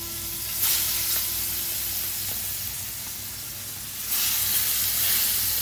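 Dry fish frying in oil in a small non-stick pan, a steady close hissing sizzle that swells louder in two bursts, with faint stirring and no voices.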